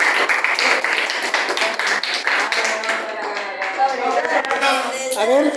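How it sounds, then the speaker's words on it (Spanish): Secondary-school classmates applaud a presenter in a classroom, a burst of dense clapping that thins out while children's voices and chatter carry on over it. "aplausos para Jeremy."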